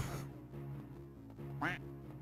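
A single faint duck quack in the video game Metroid: Zero Mission, heard late over a quiet low background hum.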